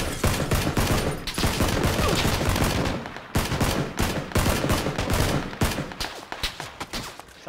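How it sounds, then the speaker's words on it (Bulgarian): Gunfire in the video game PUBG Battlegrounds, loud sustained volleys of rapid shots with a brief pause, then a continued stuttering barrage, close and dense with no talk. "Само че не ги виждам откъде стрелят отпред."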